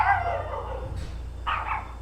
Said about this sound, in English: Dogs be going crazy.